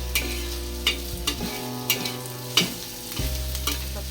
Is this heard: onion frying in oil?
yes